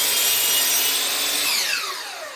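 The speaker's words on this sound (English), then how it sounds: "I'm going to come over to my chop saw, reset it back to 0. And I'm going to saw that off." A chop saw cuts off a piece of wood with a loud, close, continuous high whine and rasping bite, the pitch sliding downward as the blade slows at the end of the cut.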